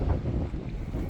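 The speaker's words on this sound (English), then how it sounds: "It's a little windy." Gusty wind buffets the microphone outdoors at Turtle Cove Marina, a low rumbling roar that swells and dips briefly without any voices.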